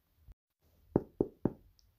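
Three sharp knocks on a house door, evenly spaced and close, preceded by a single softer tap, in an otherwise quiet indoor setting.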